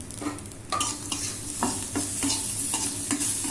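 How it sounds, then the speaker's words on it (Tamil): Onions sautéing in ghee in a pan for bhel puri, a steady close sizzle broken by repeated scraping stirs of a spoon against the pan, with no voices. "அதுவும் 2 அந்த நெய்லேயே வதங்கினா நல்லா வாசனையாக இருக்கும்"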